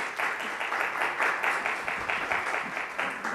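Crowd applause at the RiverDrums 2019 show, dense sustained clapping from a large audience, loud and continuous with pulsing swells.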